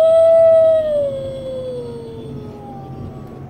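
Motion-sensitive Halloween decoration howling like a wolf: one loud, sustained electronic howl that holds steady, then slides downward and fades over a few seconds, heard alone with no talk.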